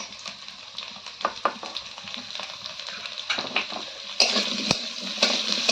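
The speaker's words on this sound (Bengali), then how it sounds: "আলুটা একটু ভাজা ভাজা করে নেওয়ার পর এখন এর মধ্যে দিয়ে দিচ্ছি কেটে রাখা পেঁয়াজ।" Potatoes and onion frying in a pan, close sizzling with scraping stirs and clatter of a utensil against the pan, the sizzle growing louder toward the end.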